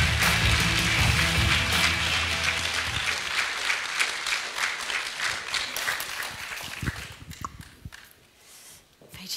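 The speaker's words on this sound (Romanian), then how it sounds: "Să o aplaudăm pe Gabriela Sabău." A crowd at the MERITO 2025 awards applauds teacher Gabriela Sabău, loud sustained clapping that thins out and fades to scattered claps and quiet near the end.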